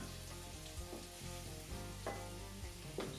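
Chinese-style fish dumplings fry in a pan with a dense, steady sizzle and spitting crackle throughout, a few louder pops rising over the constant hiss, no voices.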